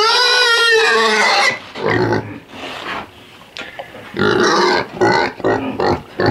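A small pig fusses with loud, close squeals and grunts that come in several bursts, separated by short pauses.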